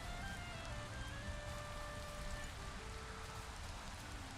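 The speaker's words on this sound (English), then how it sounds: "it looks like the rain is stopping now" Steady rain patters on surfaces outdoors in the game Moder, a soft continuous hiss of drops with a few faint tonal hums in the background and no speech.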